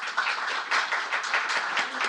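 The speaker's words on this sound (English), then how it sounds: "you can all, clap Tajana and not DAVOR for presenting it." An audience applauds during an AI panel discussion, a steady wash of many hands clapping at moderate volume for a couple of seconds, with no talk over it.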